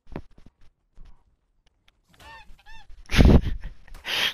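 Goose-like honking calls from a bird behind a tree, a few short nasal honks in quick succession followed by louder rustling and handling noise, with no talking.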